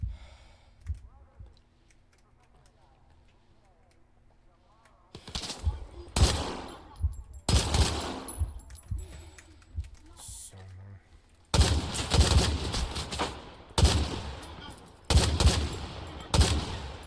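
Video-game gun bursts, rapid fusillade-style firing in repeated loud clusters through the second half after a quiet start, with a voice talking around them.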